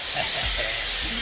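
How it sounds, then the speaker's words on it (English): Steady loud hissing of air being bled from an air tank in a workshop, a constant bright rush with faint low rumbling beneath it. "Sorry for the noise, I'm bleeding the air tank right now"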